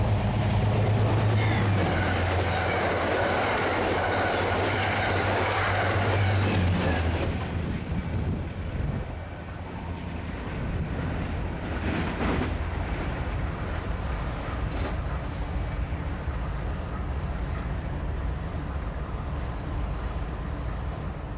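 An Amtrak train hauled by Dash 8 locomotives rumbles past a trackside camera, loud at first with a heavy low roar, then easing into a steadier, duller rolling of cars as it moves on; no voices.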